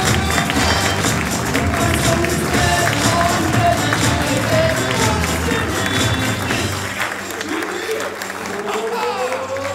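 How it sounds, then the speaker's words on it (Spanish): Audience at a comedy show in a cultural centre applauds as a performer is welcomed on stage, loud sustained clapping mixed with crowd noise and some voices, lasting nearly ten seconds before easing slightly. "recibamos con un fuerte aplauso, señoras y señores, a Jaime Marrero"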